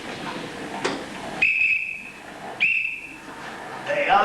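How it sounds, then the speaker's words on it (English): A sporting whistle is blown in two sharp, shrill blasts a little over a second apart, loud and close, with rustling and movement between them. "That ain't no police whistle, that's a sporting whistle."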